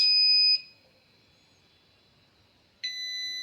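A piezo buzzer driven by an Arduino sounds a steady, piercing high-pitched 2000 Hz electronic tone, cuts out for about two seconds, then resumes just as loud.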